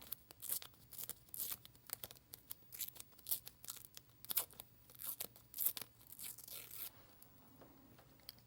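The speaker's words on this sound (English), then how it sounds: "let's tear it in half" A planner sticker sheet torn in half by hand, giving soft, close papery ripping and crinkling in several short pulls, quiet and without speech.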